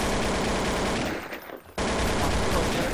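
Dense, continuous automatic gunfire from a Garry's Mod Gun Game match fills the clip at full loudness, broken by a brief drop around the middle before the rapid firing resumes just as loud.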